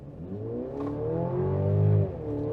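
A 2024 Mercedes-Benz GLC engine pulling steadily from about 20 mph, its tone rising and holding before easing off at a gearshift, heard from inside the cabin with no talking.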